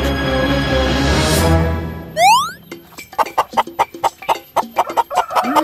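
Chickens cluck in a rapid, uneven series of loud, close squawks after a burst of music and a rising whistle effect.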